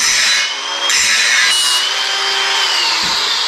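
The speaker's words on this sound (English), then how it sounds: "I'm gonna grab my grinder." An angle grinder rounding off the edges of a steel front bumper bracket for a VW Baja Bug, a loud, continuous high-pitched grinding whine that shifts slightly in pitch as the disc bites into the metal.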